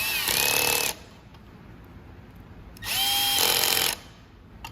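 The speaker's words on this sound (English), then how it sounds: "I'll tighten this one down. My torque will be set to about 8" A power tool whirs in two bursts of about a second each, with a steady motor whine rising in pitch as it tightens a bolt on a blade shaft assembly. The space nearby is otherwise quiet.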